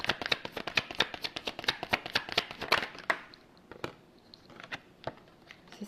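Tarot cards are shuffled in quick, crisp, rhythmic flicks for about three seconds. A few softer, scattered taps and slides follow as cards are drawn, all close and fairly quiet.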